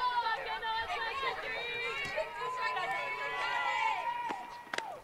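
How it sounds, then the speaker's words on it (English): Cheering and excited chatter from a high school girls' softball dugout at a game between Arlington and Collierville, a steady stream of voices shouting and calling out, fairly close and lively throughout. "You hear that nice little cheering from the dugout."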